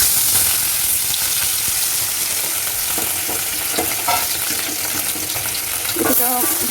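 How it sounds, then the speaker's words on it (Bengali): Fish sizzles steadily in hot oil in a kadai, a loud continuous crackling hiss with occasional spatter pops and a faint scrape of stirring near the end. "মাছটা আমি আস্তে আস্তে কড়াই ছেড়ে দেবো"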